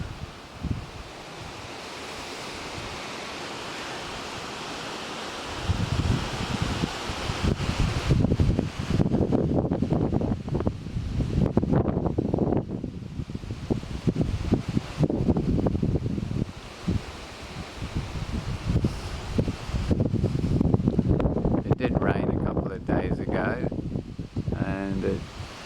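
Gusty wind sweeps around a Mirador Solid 80 louvered pergola, building from a quieter start into a loud, sustained rushing roar with rustling. A person talks intermittently underneath.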